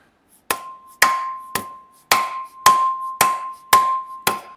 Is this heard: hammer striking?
yes